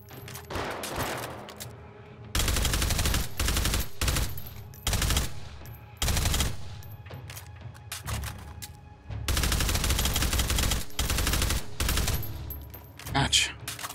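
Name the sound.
gunfire in VR video game Hot Dogs, Horseshoes & Hand Grenades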